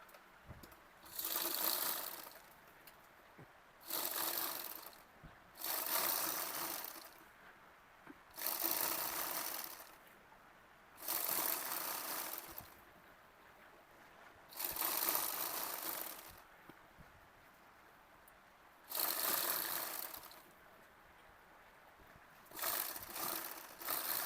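Sewing machine stitching along a fabric edge for langa (long skirt) sewing, running in repeated bursts of rapid mechanical whirring separated by short pauses, close and alone.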